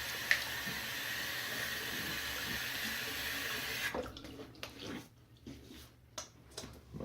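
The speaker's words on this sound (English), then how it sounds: "I'm gonna lightly wet my face." Steady rush of tap water running into a sink as a face is wetted for shaving, continuous for several seconds, then cutting off into softer splashes and drips.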